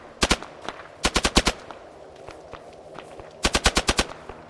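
Bursts of rapid automatic gunfire in the military video game ARMA 3, three clusters of close, sharp shots with a quieter pause between them.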